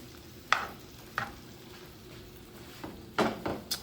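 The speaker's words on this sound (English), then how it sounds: "let it simmer for about 10 minutes" Fish frying and simmering in a hot pan, a soft steady sizzle broken by a few sharp stirring clinks and scrapes spaced across the moment.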